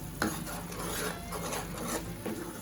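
Ginger garlic paste being stirred into an egg and milk gravy in a pan, a soft scraping, rubbing stir repeating in slow strokes at close range with a faint sizzle beneath.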